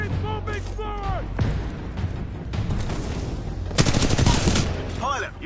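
Titanfall video game combat with bursts of automatic gunfire, booming impacts and a loud fusillade near the middle, set against a busy battle din with in-game voices speaking over the shooting.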